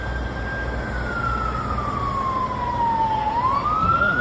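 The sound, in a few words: fire truck siren arriving at a burning car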